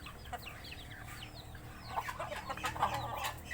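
Farmyard chickens, among them hens, cluck and chatter softly, several birds calling in short irregular bursts that grow a little busier toward the end, faint against a low background hum.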